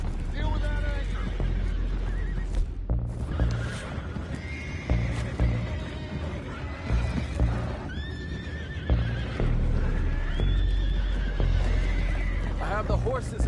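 Horses whinny and neigh repeatedly with clip-clopping hooves in the Red Dead Redemption 2 video game, set on a boat or dock with water; the animal cries rise over steady background noise while characters talk throughout.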